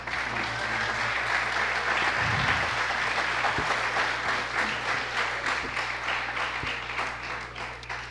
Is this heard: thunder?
no